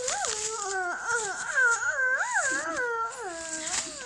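A young child imitates an ambulance siren with a steady wavering wail that rises and falls close to the microphone.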